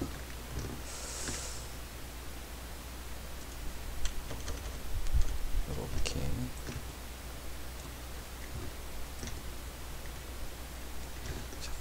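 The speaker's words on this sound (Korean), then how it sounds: "키보드의 화살표 키를 이용을 해서 1픽셀씩 움직일 수가 있습니다" Soft, scattered taps on a computer keyboard's arrow keys over a steady hiss, irregular single presses rather than continuous typing.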